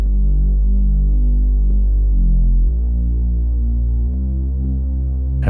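Layered mid bass and sub bass play in mono as a heavy, sustained low hum that throbs softly and steps down in pitch twice, with no voices.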